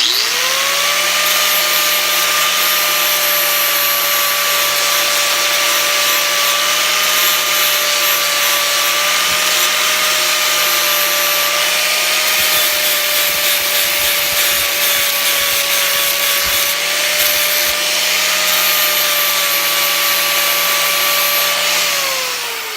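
Lawn mower blade being sharpened with a power grinder or sander, a steady loud whirring grind with a constant tone running unbroken for the whole stretch, with no talking.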